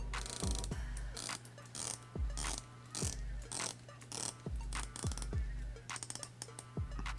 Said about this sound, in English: It gets 120 click bezel.